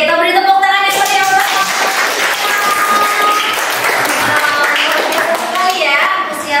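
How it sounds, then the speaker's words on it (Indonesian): Enthusiastic clapping from a classroom audience after a student presentation, dense and steady throughout, with children's voices and a teacher talking over the applause. "kita beri tepuk tangan yang meriah"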